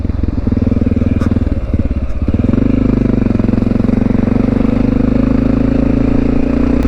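A Honda XR650L single-cylinder motorcycle rides along a main road in the Blue Mountains, its engine a loud, steady thumping drone up close that rises slightly in pitch as it pulls on.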